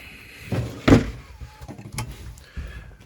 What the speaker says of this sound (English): drawer,